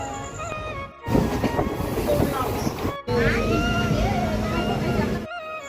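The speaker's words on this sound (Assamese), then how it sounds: "বহুত সময় ৰখাৰ পিছত ট্ৰেইন আহি পেলাই আমি ট্ৰেইনত উঠালোঁ" A train rumbles and clatters as it pulls into a station, with squealing metallic tones and steady mechanical noise throughout.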